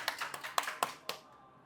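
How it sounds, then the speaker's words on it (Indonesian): A few people clap briefly for podcast guests in a small studio, about six distinct close claps spread over a second before stopping, with no one speaking. "Tepuk tangan dong untuk Paki dan Aris."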